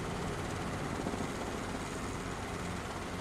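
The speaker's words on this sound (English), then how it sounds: "Also, helicopter in here is way more twitchy in the air." A helicopter in flight produces a steady, dense broadband roar with no breaks, loud and even throughout, with no voices present.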